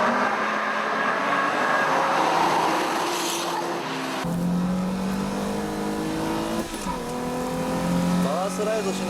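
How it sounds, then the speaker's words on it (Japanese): Engine howl from a Nissan Z and a Honda S2000 racing each other, loud revs rising and dropping through gear changes, near and sustained, with a commentator talking over the cars. "And look how fast they're shifting up. The Z and S2000 really going at it."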